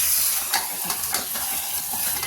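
Hot oil tempering poured over black urad dal and rice khichdi gives a steady, bright sizzle and hiss with a few small crackling pops, close and continuous, with no talking.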